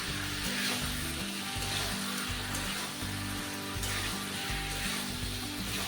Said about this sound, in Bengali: চিকেনগুলো দিয়ে নেড়ে নিচ্ছি।